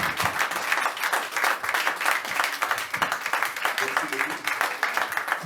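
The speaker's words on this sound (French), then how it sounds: "Alors j'aimerais aussi qu'on puisse l'honorer en les acclamant." An audience at a youth convention applauding guests, a steady, dense wash of clapping from a crowd lasting the whole stretch, with a voice speaking over it.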